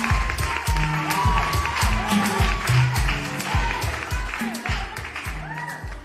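Studio audience clapping for a contestant on a TV talent show, moderate applause running under music and voices, with speech over the clapping throughout.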